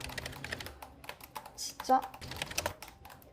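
Keys on a Samsung Notebook 7 laptop keyboard are tapped in quick, uneven bursts of close clicks, with someone speaking briefly in between.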